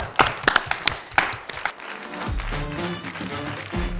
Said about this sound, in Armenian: եթե համաձայն եք կարող եք ծափարել։